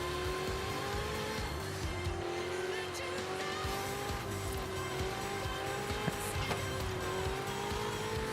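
High-revving Ferrari engine in Forza Horizon 5, a sustained whine rising and falling with gear changes, with occasional tire squeals.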